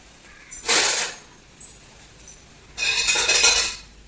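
An onion rubbed across a hot dosa griddle pan, giving two loud scraping, sizzling bursts close by with a fainter brush between them; no talk.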